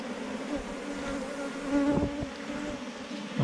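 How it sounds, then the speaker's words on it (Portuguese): A large swarm of honeybees clustered in a ball on a farm hums in a dense, continuous drone, close and steady, with no talking. "É um bolo de abelha."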